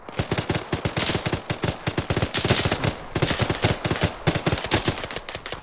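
Loud automatic gunfire in Arma 3, rapid bursts of close shots with brief pauses between strings, dense and sharp throughout, with no talking.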